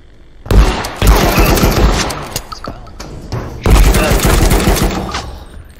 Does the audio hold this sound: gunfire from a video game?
yes